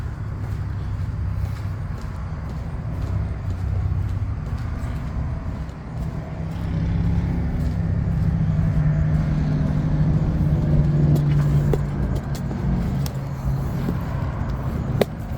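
Road traffic at night near a rain drain in Southaven, Mississippi: a continuous low rumble of cars passing, swelling and easing as vehicles go by, fairly loud and steady throughout.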